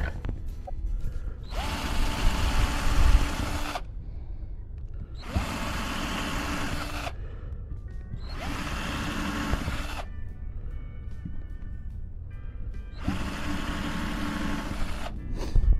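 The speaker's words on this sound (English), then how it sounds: "pre-drill those holes." A power drill whirs in four separate bursts of a couple of seconds each, pre-drilling holes in wood, loud and close, with quieter handling noise and pauses between them.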